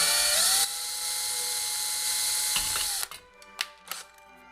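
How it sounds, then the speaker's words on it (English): A power drill bores into a Hammond aluminium enclosure box for a guitar effects pedal, a loud steady whine holding for about three seconds before spinning down, followed by a few brief bursts and clicks. "And I'll just drill right like that."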